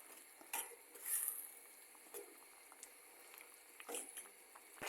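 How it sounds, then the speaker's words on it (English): Salt mackerel rundown being stirred in a pot, with faint scattered scrapes and clinks of a utensil against the pot and a soft bubbling patter in a quiet kitchen. "Stir it up."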